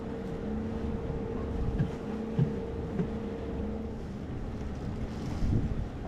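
Sailboat motors run at about 400 RPM, a steady low engine drone with a faint tonal hum under heavy wind noise and water wash on open water, continuous throughout.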